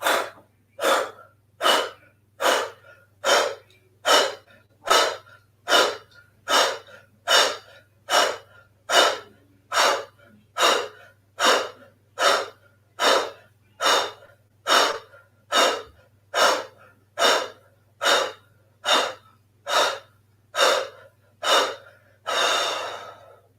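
Rapid, rhythmic breaths during an intermediate yoga sequence of kapalabhati pulses, about thirty sharp, evenly spaced exhales repeating roughly every second, close and loud with a steady low hum underneath, no talking.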